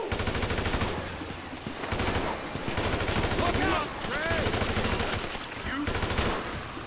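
Rapid gunfire in the video game Grand Theft Auto V, sustained bursts of automatic shots in several waves with brief gaps, loud and continuous throughout.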